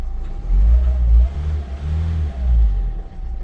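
A van engine is revved during a diagnostic scan with an Autel MK900-BT tool. Close, loud surges climb and fall twice, and the idle drops back between the rises.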